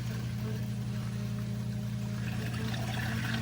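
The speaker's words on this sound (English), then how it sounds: "There goes the water, filling up the filtration." Water pours and rushes steadily into a filtration system at an off-grid cabin under a constant low mechanical hum, continuous and close, with no pauses.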